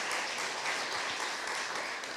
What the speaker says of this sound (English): May I request all of us give him a big, big applause one more time